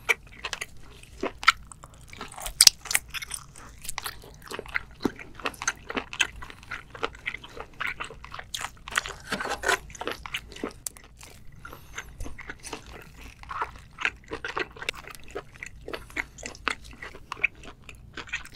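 Close-up mukbang eating of scallops and seafood tossed in jjajang sauce, with continuous wet chewing, biting and soft smacking at a moderate level, alone without talk.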